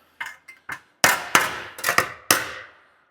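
Sheet metal for a rat rod truck is hammered by hand on an anvil, several sharp, ringing metallic strikes close by, three lighter taps first, then heavier blows at an uneven pace.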